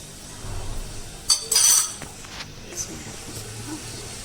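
Ingredients for togarikalu usli are stirred and mixed in a pot, with a quick cluster of metal spoon clinks and scrapes against the vessel, then quieter shuffling.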